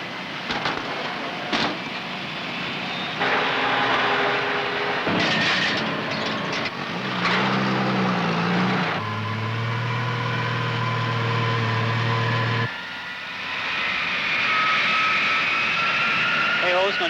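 Propeller and jet aircraft taking off and landing at a Los Angeles airport in the 1950s and 60s: a sustained engine roar that swells and shifts in pitch, with steady droning passages.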